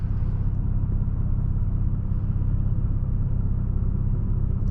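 Straight-piped Lexus IS350 with its exhaust valve open, a loud, steady low droning rumble heard from inside the car while cruising, with no talk over it.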